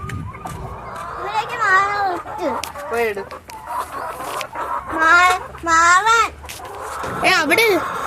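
Chickens on a small farm cluck and squawk in rising, wavering calls, loud and close, mixed with people talking nearby.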